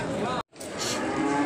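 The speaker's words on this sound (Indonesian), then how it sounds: "Dan ini sapinya ya, bosku." A cow lows loudly and close at a livestock market in Indonesia, a single drawn-out moo broken by a short gap, with crowd murmur and talk around it.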